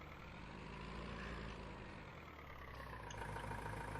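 A tractor engine drones steadily in Farming Simulator 19, a low, even rumble that holds at constant loudness with a slight rise in pitch toward the end.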